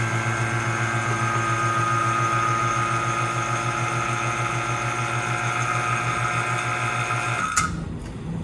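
A CNC vacuum pump used for work holding runs steadily with a constant mechanical hum and hiss, then stops abruptly near the end; no one speaks.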